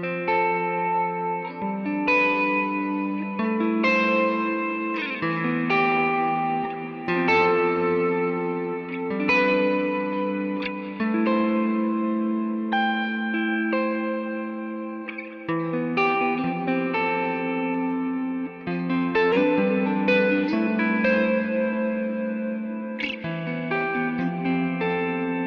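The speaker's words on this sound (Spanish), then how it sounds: "una reverb de ambiente que una vez les recomiendo aquí es la Hall" An electric guitar played through a Nux MG-300 multi-effects unit with the Hall ambient reverb, set to a long decay with some pre-delay and damping, rings out in sustained chords and single notes with washy tails for about twenty-five seconds, with no talking.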